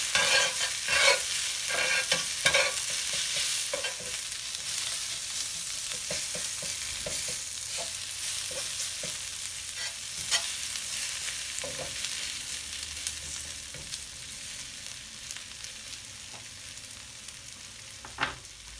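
Hot paprika and spices sizzle and fry in oil while being stirred, with steady crackling and repeated scraping strokes of the utensil against the pan, close and continuous with no talking, ahead of adding Italian sausage.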